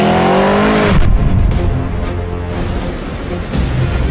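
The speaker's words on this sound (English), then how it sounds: "This impressive luxury machine delivers the driving dynamics and the exhaust note of a high-performance sports car." A Mercedes-Benz S-Class driving on a track gives a loud, close exhaust note. It opens with a rising rev sweep, then settles into a steady, throaty engine roar.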